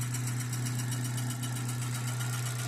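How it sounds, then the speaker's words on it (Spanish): A Subaru Forester's clutch makes a strange noise, heard as a steady, loud, low mechanical drone with a fast pulsing rattle on top, running unbroken and close without any speech. "el embrague tiene un ruido raro"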